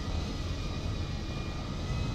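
A fixed-wing airplane engine in GTA V drones steadily and loudly as a dense, even roar that holds throughout, with no voices.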